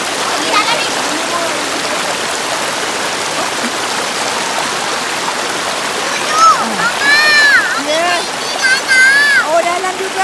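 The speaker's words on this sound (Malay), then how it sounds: "Cantiknya, air sungai dia." Steady rushing of flowing river water at Sungai Sendat, Ulu Yam, fills the scene, with a voice and high chirpy calls rising over it toward the end.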